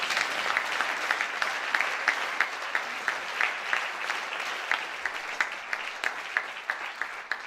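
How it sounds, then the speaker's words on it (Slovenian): An audience in a concert hall bursts into steady, sustained applause, many hands clapping in a dense rhythmic patter at moderate distance, with no voices on top. "dajmo en aplavz za Bled"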